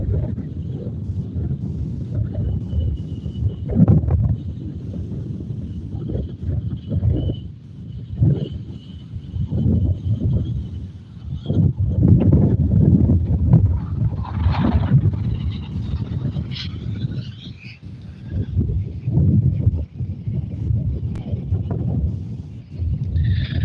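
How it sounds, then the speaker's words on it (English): Gusty wind from Tropical Storm Debby on the west side of the Alligator River Bridge in North Carolina rumbles low across the microphone, rising and falling in uneven gusts throughout. "we're still getting some gusty winds coming through here"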